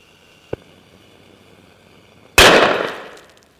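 A chunk of sodium reacting with water goes off in one loud, sudden bang that decays over about a second, preceded by a faint small tick amid quiet hiss.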